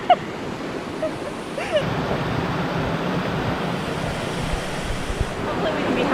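Loud river water rushing near a waterfall, a dense continuous roar filling the whole stretch with gusty, broadband noise and no clear breaks, heard up close.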